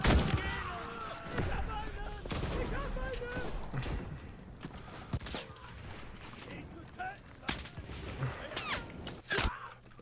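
Gunfire crackles through an Enlisted match set in the Battle of Stalingrad street fighting, with scattered sharp shots and bursts, some near and some distant, under and between talking voices.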